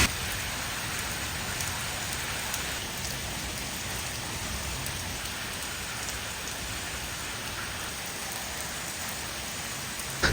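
Heavy rain pours steadily in a broad, unbroken hiss, loud and close, with the downpour drumming on surrounding surfaces and flooding the area all around; no voices are heard.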